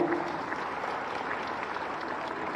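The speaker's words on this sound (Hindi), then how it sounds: "जरा आप तालियां बजाकर आशीर्वाद प्राप्त करें।" An audience at a large spiritual gathering claps in sustained, dense applause that stays fairly even and moderately distant from start to finish, with no clear voices over it.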